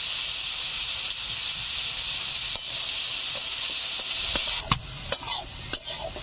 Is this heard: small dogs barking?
no